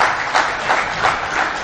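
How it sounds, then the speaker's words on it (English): Audience clapping at a health exhibition and conference, a dense, steady wash of applause from a sizable crowd with no voices over it. "Please keep clapping."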